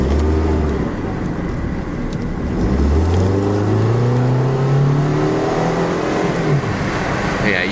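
A Pontiac Grand Am SE coupe with a Quad 4 four-cylinder engine pulls hard while driving, its engine tone climbing steadily in pitch as it accelerates through a gear, heard from inside the car.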